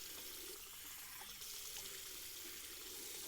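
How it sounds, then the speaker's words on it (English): A tap runs steadily into a sink for a rinse after a wet shave, producing a faint, continuous water hiss with no voices. "we're gonna do another quick rinse"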